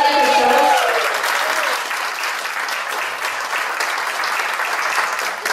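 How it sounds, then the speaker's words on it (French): Steady audience applause at a dance performance, dense even clapping sustained throughout, with a brief voice near the start. "On peut l'applaudir, c'est quelque chose."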